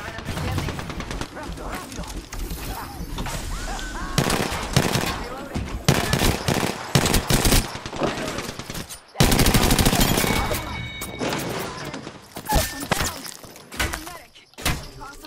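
Dense gunfire in the video game Apex Legends: sustained automatic bursts and single cracking shots go on almost without a break, loud and close, with a few short gaps and some shattering impacts.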